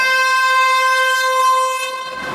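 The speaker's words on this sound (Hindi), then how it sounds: "कितना कस के हॉर्न मारना जरूरी है उसको" A loud, sustained vehicle horn blares steadily for about two seconds, rich and tonal, then cuts off abruptly, heard from outside during a class at home.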